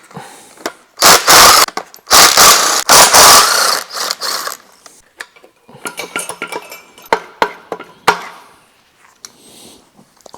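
A ratchet works loose the air-conditioning compressor on a BMW engine: a loud run of close metallic clicking and clanking, then lighter, scattered tool taps and clinks.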